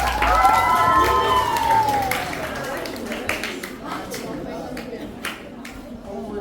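A school audience at a literary café performance by first-year students cheers with high, rising voices, then settles into sustained clapping with scattered sharper claps and light crowd chatter underneath.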